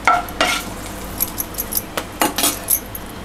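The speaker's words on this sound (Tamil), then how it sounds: "நல்லா பொரிஞ்சிருச்சு." Cloves, cinnamon and cardamom splutter in hot oil for a chicken pepper masala, making a soft sizzle punctuated by several quick pops and light metallic clinks close by.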